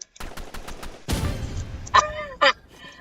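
Video game gunfire cracks out in the shooter match, first a quick run of sharp shots and then a louder burst. Two short, honking electronic effects follow near the end.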